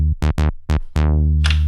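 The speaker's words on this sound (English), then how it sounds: "So our tone here is a sawtooth wave" A bright, buzzy sawtooth-wave bass from a synthesizer oscillator plays a short, punchy line. Several quick staccato notes lead into a longer held note, loud and close, with no voice over it.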